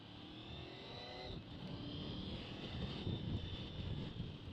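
A motorcycle engine on a rider's first bike, heard as a steady, fairly loud drone that swells a little in the second half, with wind rushing over the microphone and no talk.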